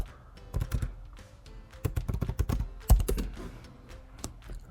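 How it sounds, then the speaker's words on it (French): A computer keyboard is typed on in quick close bursts of crisp clacking keystrokes, ending with a heavier key press. "Je tape Colab Google."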